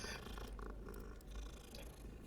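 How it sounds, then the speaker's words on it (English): A cat purring while being petted in the video game Hogwarts Legacy, a soft, continuous low rumbling purr up close, steady throughout the clip. "Oh, get to pet kitties."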